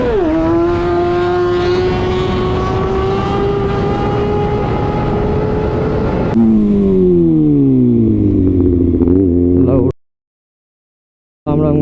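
Kawasaki ZX6R motorcycle with an Arrow titanium exhaust revving hard, a loud rising engine howl that holds high, then drops and climbs again before cutting to silence, with a brief burst at the end.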